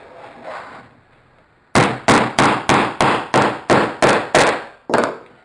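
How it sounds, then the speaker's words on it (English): About ten loud, evenly spaced hammer blows ring out in quick succession after a moment of quiet rustling, as a part is hammered into place while assembling a camera obscura kit. "Simply put it in there and hammer it down."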